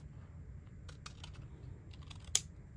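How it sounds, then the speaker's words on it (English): Scissors cut a vellum paper circle in half, giving a series of small crisp snips that end in one sharp, louder snip, close by and quiet, with no talking. "Now I'm going to cut that circle in half."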